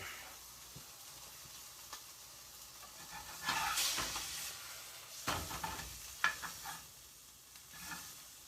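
Burger patty frying in a pan for a bacon cheddar Funyun cheeseburger, a soft steady sizzle with occasional louder pops and crackles, fairly quiet and close, with no talking.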